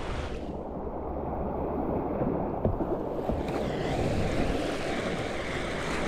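Surf waves on the Wenatchee River wash steadily and loudly close by, a continuous rushing roar with some wind buffeting the microphone throughout.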